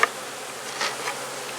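Honeybees buzz in a soft, steady drone inside a hive, with a few brief louder passes of individual bees close by.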